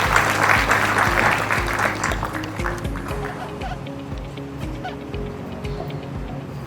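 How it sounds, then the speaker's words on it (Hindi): Applause from an audience greeting an author at a book launch in Uttarakhand, with steady clapping that starts strong and slowly fades, and a murmur of voices underneath. "उत्तराखंड की लेखिका सुश्री आराधना जौहरी को उनके संबोधन के लिए तालियों के साथ स्वागत करेंगे।"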